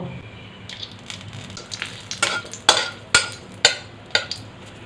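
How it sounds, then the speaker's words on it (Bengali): Dried red chillies drop into hot oil for tempering while red spinach fries, giving bursts of crackling sizzle and sharp pops that rise and grow louder, with pan scrapes between them. "এবার এর মধ্যে আমি শুকনো লঙ্কা ফোড়ন দেব"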